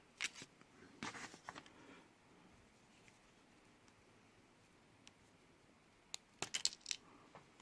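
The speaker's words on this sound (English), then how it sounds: "So I am going to wind up snipping that to match." Wire cutters snip a red wire down to length on a drone build, giving a few sharp, quiet clicks near the start and a cluster of small crisp snaps toward the end, with faint handling rustle in between.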